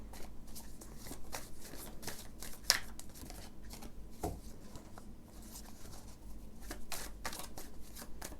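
Tarot cards being shuffled by hand, with soft, continuous papery riffles and taps close by at low volume and no talking.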